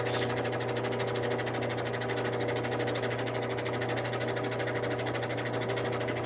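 A lapidary machine polishes a thunderegg core cabochon on a finer grit, giving off a steady, loud mechanical drone with a fixed motor hum that runs unbroken and alone throughout.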